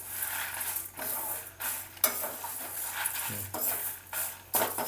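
Whole spices for tamarind rice paste are stirred and dry-roasted in a pan on the stove, giving soft scraping and rustling strokes at an irregular pace over a faint sizzle, close by with no talking.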